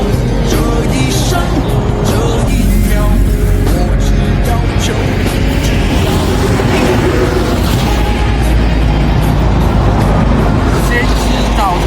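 Road traffic near a riverside campsite in Jiangsu on a near-freezing morning rumbles loudly and continuously, with passing vehicles under people talking.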